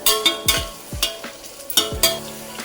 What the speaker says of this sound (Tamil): இப்போ கொஞ்சம் பச்சை மிளகாய் போட்டு வதக்கிக்கலாம்